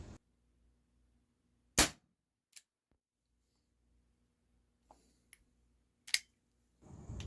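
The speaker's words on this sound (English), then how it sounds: "That's the first shot off a freshly pierced CO2 cartridge." An Umarex Beretta 92FS nickel and wood CO2 air pistol fires on a freshly pierced cartridge: a sharp, loud crack in near silence, followed later by a second shot and a few small mechanical clicks.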